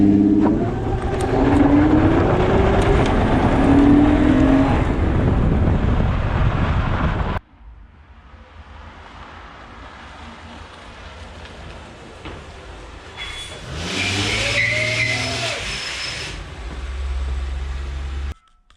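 An Acura TL rolls over a dirt road with tires spinning and crunching on loose ground, a loud rumbling drone buffeted by wind, then a quieter stretch before the engine noise swells again.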